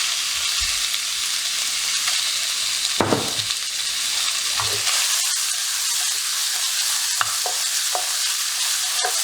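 Pork sizzling loudly with garlic in a hot wok, steady bright frying hiss with occasional stirring scrapes and clinks, close up and continuous without talk.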